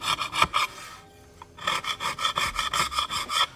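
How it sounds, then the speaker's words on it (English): A carbon gasket scraper rasps over a part from a Porsche 3.2 engine during a top-end rebuild, with rapid, rhythmic scraping strokes close up, a brief pause, then a steady run of strokes. "grab the carbon gasket scraper, get the big stuff off"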